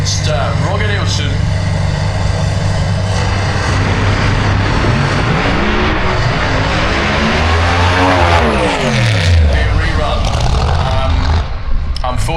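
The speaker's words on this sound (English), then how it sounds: "Len Lindau with the screw-blown Hemi, number 1 qualifier, going up against Roger Nilsson" A screw-blown Hemi door-slammer drag racing car at Santa Pod roars at full throttle, very loud and dominant, its engine pitch sweeping and shifting as it passes, with a commentator talking underneath.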